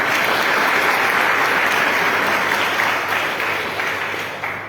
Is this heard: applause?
yes